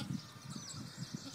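Young goat kids bleat in several short, soft, low cries spaced about a second apart, fairly close against a quiet outdoor background.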